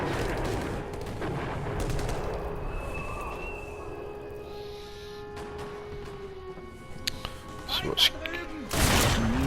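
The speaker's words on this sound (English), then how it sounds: "Get a submachine gun out." Submachine gun fire in the Sniper Elite V2 Remastered video game on PS4, with rumbling game ambience and a few short bursts of shots building toward a loud blast near the end.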